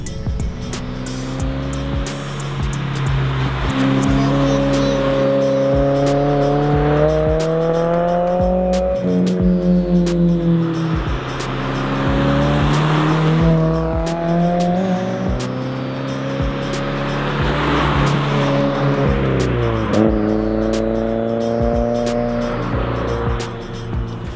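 A car fitted with a center exit exhaust makes repeated flybys on a quiet road, the engine loud and close as it accelerates through rising gears, pulls away and returns, with a strong tonal exhaust note.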